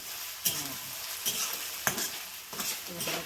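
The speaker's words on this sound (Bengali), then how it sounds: "ঘি দিয়ে ভাজা" Food sizzles steadily in hot ghee while a utensil scrapes and stirs the pan in occasional strokes.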